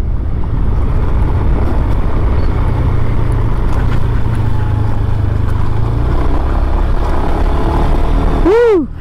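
A Honda Beat Street 110cc motor scooter ridden fast over a rough gravel road, with a loud, steady engine drone and rumbling wind and road noise close by, ending in a short rising whine.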